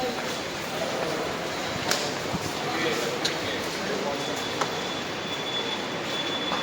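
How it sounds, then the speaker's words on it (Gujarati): At Mumbai Central railway station, local trains give off a steady rolling rumble and occasional clanks over a busy platform hum, with a voice talking over it. "Mumbai સેન્ટ્રલનું railway station."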